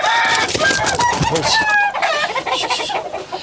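Chickens and roosters on a ranch in Muscoy, including Hennies of different bloodlines, cluck and crow steadily at close range, with layered bird calls filling the scene and someone talking over them.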